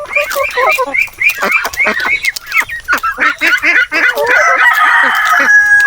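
Several native chickens, including a hen with chicks, cluck and squawk up close in a busy, overlapping chatter, growing louder and more insistent toward the end.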